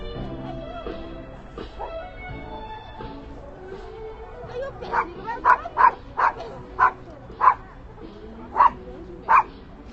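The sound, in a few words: dogs barking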